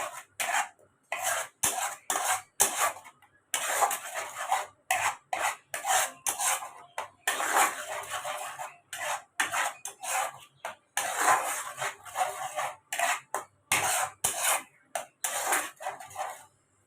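Paneer butter masala being stirred in a pan after sugar is added, with a steady run of rhythmic metal spoon scrapes and clinks against the pan, close and fairly loud, separated by brief pauses, no voices.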